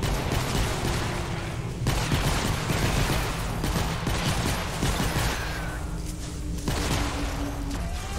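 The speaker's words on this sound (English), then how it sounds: "they're shooting me from far away" Gunfire from distant enemies in Fortnite: Save the World, sustained bursts of shots crackling over a dense, steady game soundscape with no voices.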